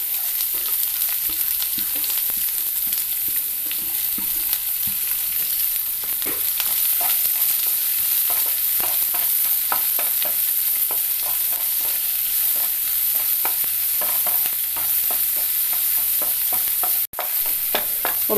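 Shallots and curry leaves fry in a pan for a banana flower and green gram thoran, giving a steady loud sizzle dotted with frequent crackles and stirring scrapes throughout, with no voices.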